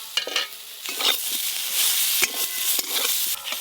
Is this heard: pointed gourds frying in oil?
yes